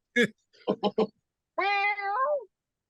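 A person imitates a cat with a short staccato voice burst, then a drawn-out, wavering meow.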